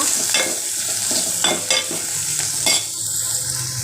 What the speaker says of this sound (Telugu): ఉల్లిపాయలు పచ్చిమిర్చి వేసా ఉప్పు కొంచెం పసుపు ఉల్లిపాయలు కొంచెం కలర్ చేంజ్ అయ్యే వరకు ఫ్రై చేస్తున్నా